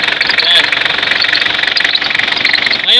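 A running car engine with a loose, noisy fan belt gives off a steady, harsh high-pitched whine and rattle over the engine's hum. The noise stays close and loud for the whole stretch.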